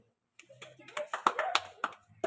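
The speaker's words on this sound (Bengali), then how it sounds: "এটা হাততালি দাও।" Children clapping hands at a spin-the-wheel prize game, a short burst of uneven claps close by, mixed with voices talking.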